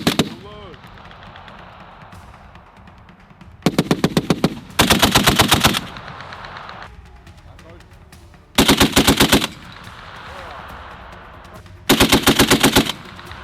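US Marines test-fire an M2A1 .50-caliber heavy machine gun in four loud, close, rapid bursts, each lasting about a second, with quieter gaps between them.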